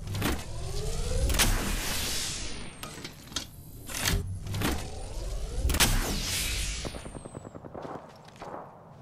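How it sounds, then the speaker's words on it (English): Shield recharging in Apex Legends, a series of whirring mechanical charge sweeps with sharp clicks and rising tones, repeating several times over a busy game backdrop of distant shots. "Recharging my shields."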